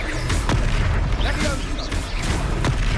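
Confringo spell blasts boom through a dense, continuous battle in Hogwarts Legacy, with repeated explosive thumps and magical whooshes layered over constant combat noise.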